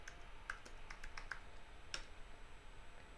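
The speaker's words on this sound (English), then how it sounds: "Now I can type in git init." Someone types a short command on a computer keyboard, a quiet run of separate key clicks spread unevenly over a few seconds with faint background hiss and no talking.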